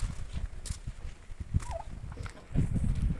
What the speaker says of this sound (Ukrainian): Ну індик теж вон.